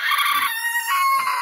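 A chicken crowing close by in a short strained burst of harmonic notes, cutting in and out with no voices.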